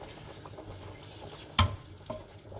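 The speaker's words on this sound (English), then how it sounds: "Let's just mix that into our tomato base." Paneer is stirred into a tomato base in a pan, giving a low continuous sizzle with one sharp clack of a utensil against the pan and a softer scrape after.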